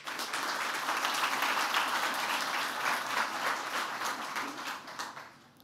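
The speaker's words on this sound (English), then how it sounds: "Give him a big round of applause." Audience applause at a PyData Amsterdam talk for an incoming speaker, a steady wash of many hands clapping from a seated crowd, moderately loud and sustained before tapering off at the end.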